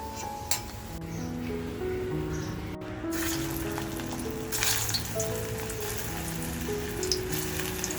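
Dried fish kofta frying crisp in oil over a slow to medium flame, a soft continuous sizzle with light pops and clinks, no one speaking.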